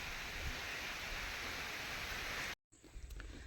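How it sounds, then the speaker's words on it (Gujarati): Steady rain pours down in a village during a monsoon downpour, a dense, even hiss that fills the scene before cutting out abruptly, then resumes more faintly with scattered drips. "ટપક ટપક ટપક ચાલુ થઈ ગયો"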